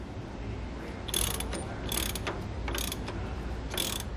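A ratchet wrench tightens a washer and nut onto a bolt on a Roadmaster rear anti-sway bar on a 2015 Ford F-53, with several bursts of quick ratcheting clicks over a steady low rumble, no voices.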